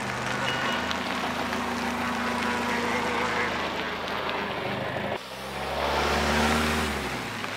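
A van's engine runs and pulls away through snow in subzero winter cold, a steady low rumble that deepens and swells as it drives off.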